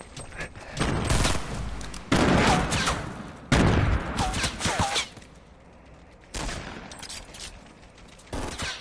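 Rapid bursts of automatic gunfire from the Fortnite video game, several loud volleys separated by short pauses, with quieter gaps between.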